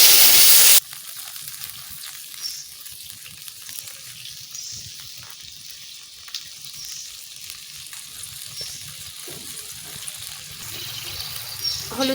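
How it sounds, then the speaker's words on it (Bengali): Water hits a hot pan holding fish and spinach curry cooking with garlic, starting as a loud burst and then settling into a steady close sizzle and bubbling that runs throughout. "এবারে জল দিয়ে"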